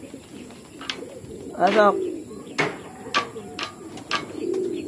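Pigeons coo several times inside a loft, with soft repeated calls rising and falling close by, while a person talks in Filipino between the calls.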